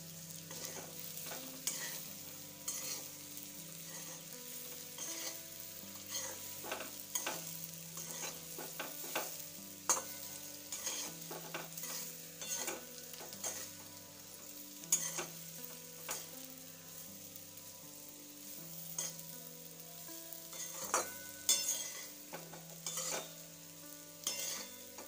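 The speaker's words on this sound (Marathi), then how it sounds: "ह्या आळूच्या वड्या आता व्यवस्थितपणे हलवून घेऊया" Boiled colocasia-leaf rolls (aluwadi) stirred in a tempering, with a spoon scraping and clacking against the pan in steady, close strokes over a soft sizzle, no talking.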